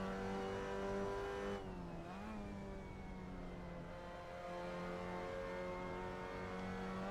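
A race car's engine drones and revs on track, its pitch dipping briefly as the driver eases off, then climbing steadily again at close, sustained volume.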